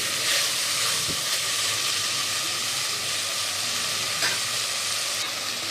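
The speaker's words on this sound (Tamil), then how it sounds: "கொஞ்சம் எண்ணெயிலே நல்லா வதங்கணும் பச்சை வாடை போகிற வரைக்கும்" Spices sizzling and sautéing in oil in a pan while cooking a karamani channakunni poriyal, a steady close hiss with a couple of brief stirring clatters, no voices.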